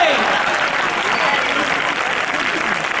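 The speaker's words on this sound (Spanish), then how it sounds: "¡Un aplauso a mí!" Audience at a chirigota carnival performance breaks into applause, a thick continuous roar of clapping and crowd noise that holds steady for the whole stretch.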